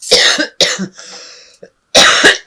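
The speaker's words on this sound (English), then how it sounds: "I'm so sorry about this cough." Several harsh coughs in bursts, close and loud, with a brief rasping pause between them and a final strong coughing fit.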